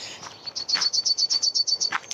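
Birds chirping outdoors in Finland by a wild swimming spot, a rapid run of high, evenly spaced tweets repeating about ten times in quick succession, clear and fairly close, with no voices.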